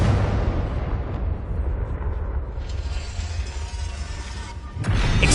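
A Confringo blasting spell goes off in the Hogwarts Legacy video game: a loud, deep boom rolls into a long rumbling roar that slowly fades, then a fresh burst swells near the end.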